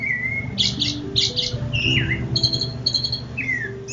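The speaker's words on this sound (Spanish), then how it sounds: "el pájaro, que no había vuelto a cantar, llenó el palacio con sus flautas y violines" Birdsong heard alone and fairly close, made of bright, varied chirps and whistled trills in quick bursts over a soft background hum, voicing a songbird in a Latin American folk tale.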